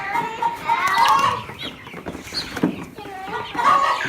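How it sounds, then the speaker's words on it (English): Meat chickens clucking and squawking close by while being removed from their pen, busy and overlapping calls, with children's voices in the background. "Removing the meat birds."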